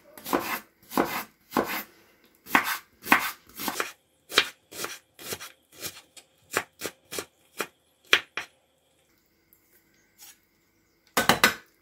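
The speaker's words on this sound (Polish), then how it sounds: "Cebulkę kroimy w kosteczkę." A knife dices an onion into small cubes: about twenty crisp, close chops in quick uneven bursts, a short pause, then a final flurry of cuts, with no talking.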